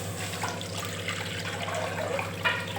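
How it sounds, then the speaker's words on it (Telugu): Water being poured into a kadai pan sitting on a kitchen stove while making crispy murukulu, a continuous splashing trickle at close range with no speech. "స్టవ్ మీద ఒక కడాయి పెట్టి"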